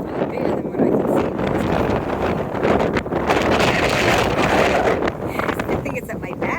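Wind buffeting a microphone on a hiking trail in Ireland, a loud continuous roaring rumble with gusty surges and brief dips, filling the whole stretch without pause.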